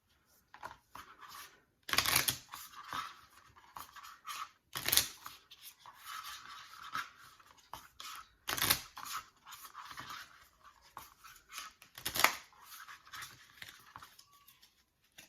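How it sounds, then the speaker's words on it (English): Several bursts of riffling a deck of board-game cards, each a quick crackling flutter, separated by quieter shuffling and handling noises close up. "I'm going to give this deck a shuffle"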